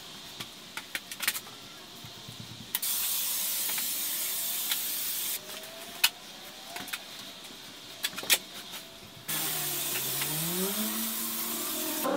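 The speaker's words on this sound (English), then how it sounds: "Spray adhesive, cut the foam out, spray adhesive, cut the foam out" Bursts of hissing spray adhesive, several seconds each, loud and close, separated by pauses with faint clicks and handling noises.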